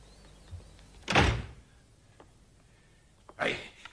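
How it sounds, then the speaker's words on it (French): A door shuts twice in an indoor scene, each a short whooshing thud with a sharp onset, the first stronger, separated by about two seconds of quiet room tone. "fermez la porte"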